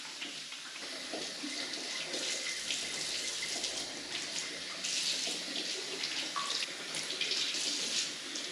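Tap water runs steadily from a faucet as fresh farm eggs are washed, a continuous close splash and hiss that carries on alone without pause.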